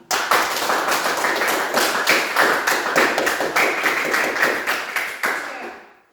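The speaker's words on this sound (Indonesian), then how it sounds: "Iya, sekali tepuk tangan." Classroom group clapping together, a burst of many hands in rhythmic, fairly uneven claps lasting several seconds before fading out.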